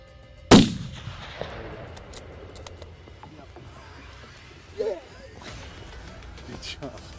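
A single sharp, loud gunshot at outdoor shooting practice, followed by a quieter second report a few seconds later, with voices talking in the background.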